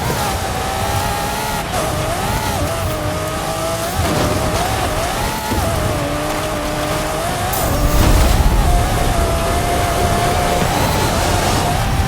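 A Ford Fiesta races across Baja terrain in a video game head-to-head, its engine droning loud and continuous with wavering pitch, tire and rough-ground noise mixed in, and a louder rush near the end.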